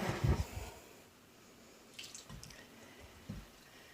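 Wet ingredients poured into a well of flour for scones in a home kitchen, giving a soft, quiet liquid trickle after a few low bumps at the start, with faint splashy touches later.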